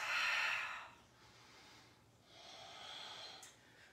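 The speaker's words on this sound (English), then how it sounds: "Take 2 more breaths." Slow yoga breaths during a lunge pose, a strong breathy exhale followed by a quieter pause and another long, softer breath, close and alone.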